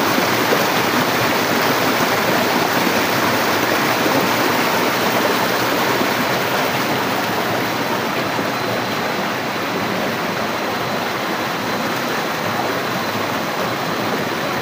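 Tanaun Falls pours in a steady, loud roar of rushing water, with the waterfall and stream forming an unbroken broadband wash with no talk for the whole stretch.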